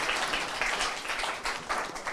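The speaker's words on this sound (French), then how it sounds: "Libérons les applaudissements." Applause at a regional corporate social responsibility awards ceremony in Provence, steady dense clapping from a crowd, loud and continuous throughout.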